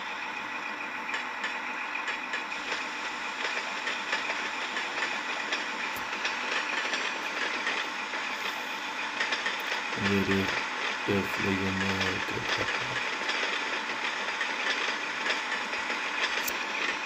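A locomotive engine from the Train Simulator game drones and idles steadily, with a burst of rhythmic low thumping midway, heard at moderate level without speech over it.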